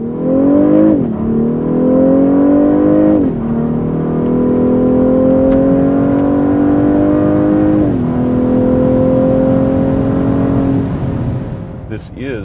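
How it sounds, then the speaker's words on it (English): A 2014 Cadillac CTS twin-turbo engine revs and accelerates loudly in track mode, rising in pitch through several gear changes with brief dips between pulls. "This is the true sound signature from the Cadillac Twin Turbo under hood being brought into the cabin for the driver to enjoy."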